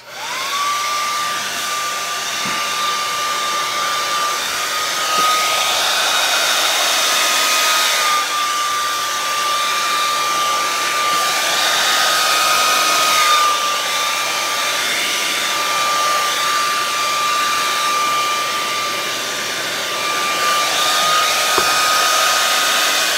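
A hair dryer blows across wet acrylic paint in a Dutch pour, a loud, steady rushing drone that holds for over twenty seconds with a few brief dips as it is turned and aimed, and no voices.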